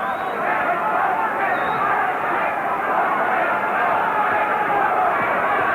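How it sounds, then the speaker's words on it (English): A boxing crowd at a fight between two boxers rises to its feet cheering, a dense, steady roar of voices and hubbub that holds loud and unbroken throughout. "The whole of this crowd now jumping to their feet and cheering these boys on now."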